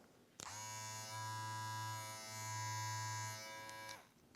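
Barber's hair clipper switched on and running at its second speed, a steady close electric buzz with rich harmonics that starts abruptly, holds for about three and a half seconds with slight wavering, then cuts off, no talking.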